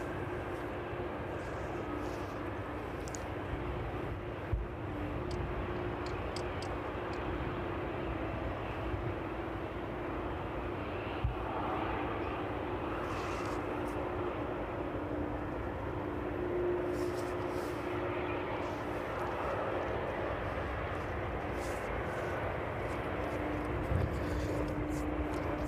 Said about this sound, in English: The 757 making its way in there.